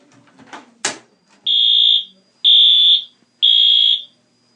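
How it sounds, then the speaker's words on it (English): Indoor fire alarm blares in three loud, evenly spaced bursts of about half a second each, preceded by a short burst of talking and a sharp click. "The fire alarm is loud."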